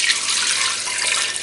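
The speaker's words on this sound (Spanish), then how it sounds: "Pondremos el agua." Water pours steadily into a pressure cooker pot for boiling eggs, a close, loud and continuous splashing rush with no voices.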